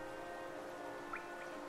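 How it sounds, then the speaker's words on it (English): Soft rain falling on glass in the video game Hollow Knight, a faint steady patter layered over a quiet sustained ambient tone, with a couple of small higher glints near the end. "I so love the sound of the rain upon glass."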